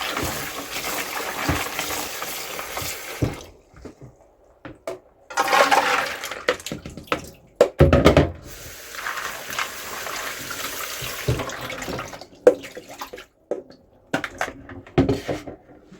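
Papaya and carrots washed under a running kitchen tap, water splashing in bursts with clatter of produce and dishes in a sink, fairly close, no talk.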